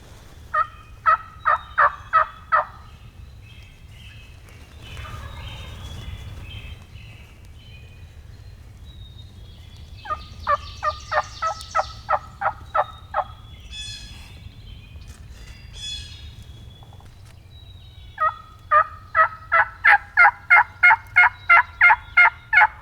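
Wild turkey gobbling on Wisconsin public land, three bursts of rapid rattling gobbles separated by quieter gaps, fairly loud and carrying, with soft rustling in between.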